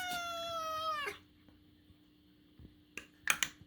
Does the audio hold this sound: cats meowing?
yes